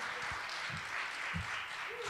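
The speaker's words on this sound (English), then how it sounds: "Can we also give a round of applause for our wonderful musicians?" Applause from a storyslam audience in Scranton for the evening's musicians, a continuous wash of clapping with a few low voices and murmurs underneath.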